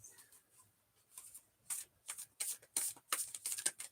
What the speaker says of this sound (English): I'll give this 3 shuffles.